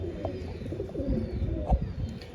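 A pigeon coos softly while being handled at close range, with brief rustling and muffled thumps from the bird and hands.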